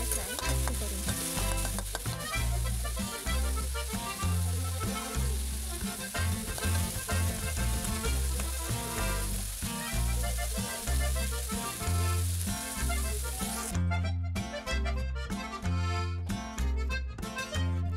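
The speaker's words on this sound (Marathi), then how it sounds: "टोमॅटो मऊ होईल असा मस्त भाजून घ्यायचा" Tomatoes fry in a pan for a mutton curry and give a dense, continuous sizzle with stirring throughout, loud and close, with no talking.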